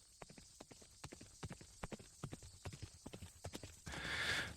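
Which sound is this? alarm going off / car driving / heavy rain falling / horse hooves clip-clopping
horse hooves clip-clopping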